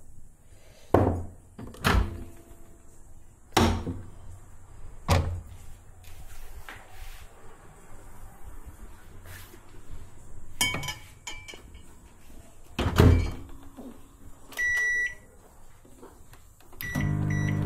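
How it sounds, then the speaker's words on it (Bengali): Microwave oven in use to heat a cup of tea: a series of sharp door thunks and clinks, with a steady hum between them and a few beeps near the end. "তো সেটাই এখন মাইক্রোওভেনে গরম করতে দেবো"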